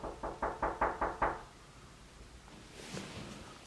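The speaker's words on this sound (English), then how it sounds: "knocking on my door?" Six quick, even knocks on a door, close and fairly loud, followed by quiet room noise and a faint rustle.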